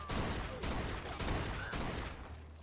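Gunfire in the video game Mafia 2 during a robbery, with several bursts of shots at moderate distance that start and stop across the moment, fairly quiet, with no talk.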